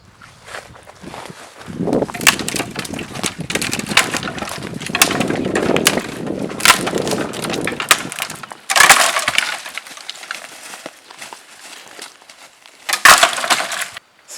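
Wood and branches snap and crack to imitate elephants tearing through acacia trees, a run of loud close splintering breaks and crunching footsteps with short pauses between bursts.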